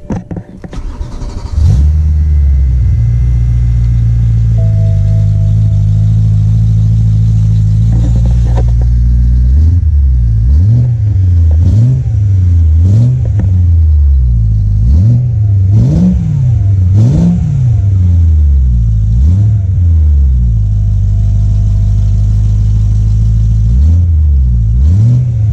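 A V8-powered BMW E92 M3 cranks and catches, settles into a steady idle, then revs repeatedly in sharp blips before dropping back to idle and revving again near the end, loud and close with no talk.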